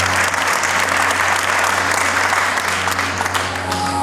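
Dense, steady applause from a large audience at a school graduation ceremony, continuous and loud throughout with a low hum underneath.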